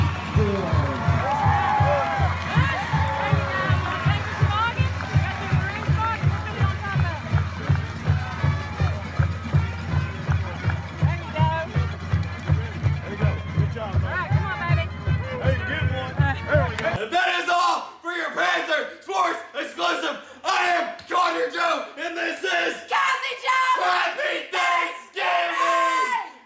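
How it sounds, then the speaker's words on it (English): Crowd in a high school gym at a sports event, with steady rhythmic thumping that breaks into loud cheering, yelling and applause, voices mixed throughout. "Let's give a big round of applause for Panther High School legend Barney Orr."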